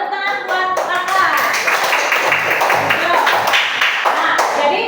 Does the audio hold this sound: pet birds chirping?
no